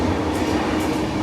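Inside a moving passenger train, a loud, steady rumble of wheels and carriage noise fills the space, with faint rhythmic clatter and no talking.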